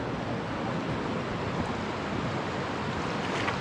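Broadband rushing of river water flowing near a gold claim, a constant loud wash with no pauses or voices throughout.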